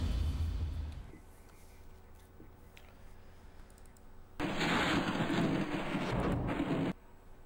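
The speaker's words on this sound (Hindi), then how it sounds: "मुख्तलिफ इलाकों में तेज बारिश ने मंजर ही बदल दिया" Heavy rain pouring in Karachi, a dense hissing downpour that surges loud and close for a few seconds after quieter background noise, then cuts off abruptly.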